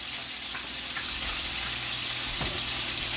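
Chicken thighs fry in hot oil in a pan for Pad Thai, a steady close broadband sizzle with scattered pops and crackles throughout.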